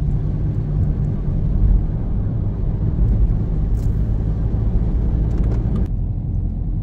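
A car drives on roads approaching Ambleside in the Lake District, giving a steady, loud, continuous low engine and road rumble heard from inside the cabin, with no talking.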